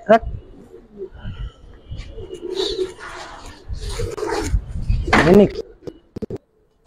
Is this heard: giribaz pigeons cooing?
yes